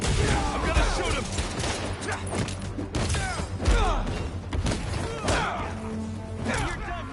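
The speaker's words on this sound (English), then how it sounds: "I'm gonna shoot him!" Gunfire in Marvel's Spider-Man 2, a dense run of shots and thuds with crashing impacts layered over game music and effects, loud and continuous throughout, with a voice speaking among the action.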